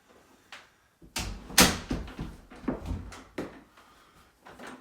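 A door that has just been rehung with a hammer and nail is swung open and shut, giving several close wooden knocks and latch clunks with a scrape between them.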